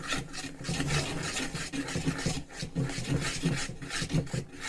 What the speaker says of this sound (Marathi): तर 1 ते 2 मिनिट आपण छान मिक्स करून घेऊया